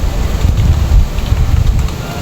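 Strong wind buffets the microphone outdoors by a rice field, a loud, rough, low roar with gusty swells throughout and no clear voices.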